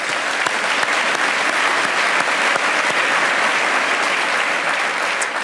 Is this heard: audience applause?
yes